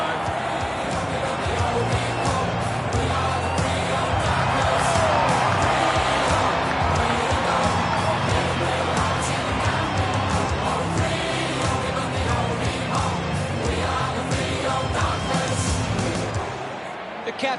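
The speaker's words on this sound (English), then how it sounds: "the crowd are appreciating it" A stadium crowd roars and cheers steadily at an AFL Evolution 2 Australian football match involving Fremantle, a loud broad wash of noise throughout with a commentator talking over it.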